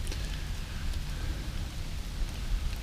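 Steady rain falls during a bike ride on the Hiawatha trail, a dense close hiss of drops spattering on surfaces with no one talking.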